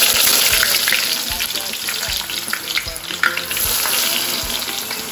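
Long-sliced onions hit hot oil and sizzle loudly and steadily, with occasional stirring clicks and scrapes in the pan and no talking over it.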